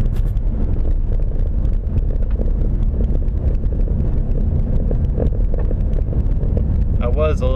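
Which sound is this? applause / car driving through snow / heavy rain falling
car driving through snow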